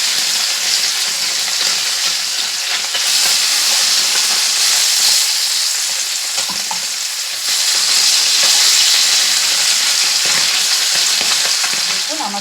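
Sorputi fish fry in hot oil, turned to cook the other side, giving a loud, steady, close sizzle and hiss that crackles on without pause and swells slightly partway through.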